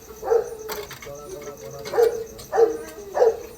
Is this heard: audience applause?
no